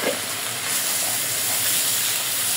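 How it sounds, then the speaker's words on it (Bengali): A spice paste of onion, garlic, cumin and coriander, with salt and turmeric, sizzles and hisses steadily as it fries and is stirred in a pan, close and continuous with no talk. "মশলাটা 2-3 মিনিটের জন্য কষায় নেব ভালো করে"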